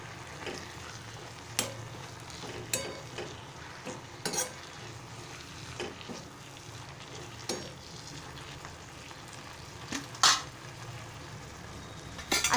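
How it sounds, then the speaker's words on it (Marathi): Drumstick vegetable pieces with salt fry in a pan with a steady sizzle, broken by scattered sharp clinks and scrapes of a spatula stirring against the metal. "आणि व्यवस्थित आपण परतून घेऊया।"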